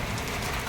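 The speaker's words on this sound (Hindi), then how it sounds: "बारिश है, बारिश का मौसम है।" Rain dripping during the rainy season makes a brief, steady, dense patter with no other sounds.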